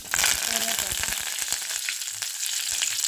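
Mustard seeds and cumin fry in hot oil, giving a dense, steady crackling sizzle with sharp pops scattered throughout, close and fairly loud.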